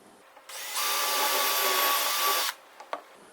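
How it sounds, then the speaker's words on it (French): A power drill bores through two stacked pieces, set to the diameter of a screw body: one loud, steady whirring run of about two seconds, followed by a couple of small knocks. "Je perce donc les deux pièces."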